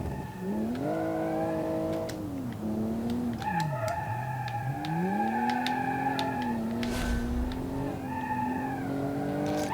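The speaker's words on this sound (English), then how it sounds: "Another car with good power that manages to get the power down without spinning the tires like" A powerful turbo race car in the Automation game accelerates hard on a test track, its engine note climbing steadily, dropping at gear shifts, then climbing again. The engine sound is loud and sustained, with a faint tire squeal.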